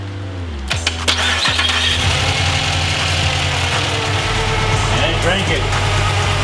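Pontiac Grand Prix GXP with a 5.3 V8 LS4 cranks over and settles into a steady, loud idle, close by, with people talking over the running engine.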